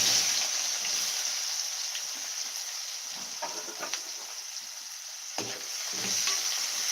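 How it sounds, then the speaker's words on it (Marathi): Chopped onion frying with mustard seeds and cumin in a pan, stirred with a spoon: a steady close sizzle under a scraping, clattering stir that runs throughout. "चमचा मी असे परतून घेते कांदा लालसर होईपर्यंत मी परतून घेणार आहे"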